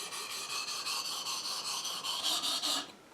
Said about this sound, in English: I started practicing on a whetstone